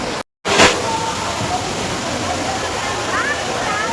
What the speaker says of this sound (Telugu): చూసారు కదా వాటర్ ఫాల్స్.